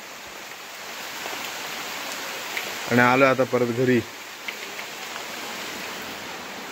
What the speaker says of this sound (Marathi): तर पाऊस आलाय आणि मग तसंच आम्ही आता परत छत्री नाही आणली